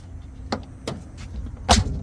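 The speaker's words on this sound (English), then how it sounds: "Door closes nice." A door shutting on a 1984 Dodge Rampage 2.2 sport pickup: a couple of light clicks, then one solid, close thump near the end against quiet surroundings.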